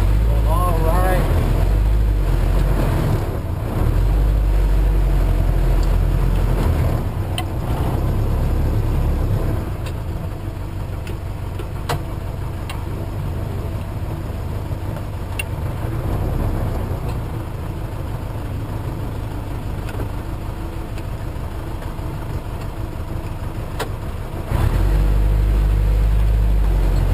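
A 1952 M38A1 jeep engine runs steadily after a cold start, a loud, continuous low rumble with occasional clicks and a brief drop in level midway, while people talk over it.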